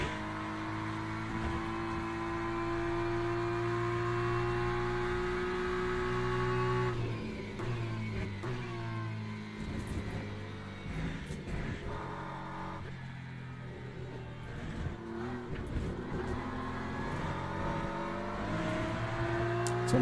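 A McLaren race car engine in the Le Mans Ultimate sim racing game holds a loud, sustained high-revving whine. Pitch steps through gear changes, with shifting revs and no talk.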